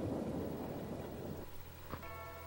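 Thunder rumbles from a lightning bolt in the video game Carrier, a loud steady roar of storm and rain filling the whole clip with a sharp crack near the end, and no one talking.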